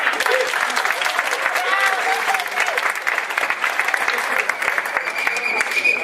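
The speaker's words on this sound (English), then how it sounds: "let's give Diana a round of applause." Sustained, loud applause from a crowd at a live Battle of the Sexes show, steady clapping throughout with cheering voices mixed in.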